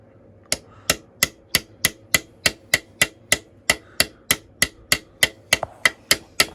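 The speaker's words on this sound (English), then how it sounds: "putting the new bushings in" A hammer taps new bushings into an SU HIF44 carburettor: about seventeen sharp, evenly spaced metallic strikes in a steady rhythm, close and clear, with no talking.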